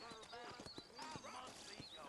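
Horse hooves clip-clop in a steady rhythm in the Red Dead Redemption video game, set in New Austin, moderately close beneath a voice that is talking over them.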